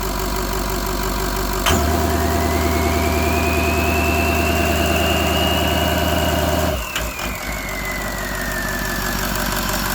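A Ford 6.0 Powerstroke diesel on a test stand idles loudly and steadily, its note briefly lifting as the idle is raised, then falling back with a stumble near the end.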